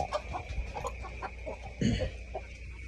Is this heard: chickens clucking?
yes